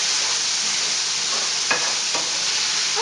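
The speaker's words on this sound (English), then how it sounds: "while I saute these for 45 seconds" Pre-chopped vegetables sautéing in a pan, a broad steady hiss of frying with a couple of faint stirring clicks, close and continuous with no talk.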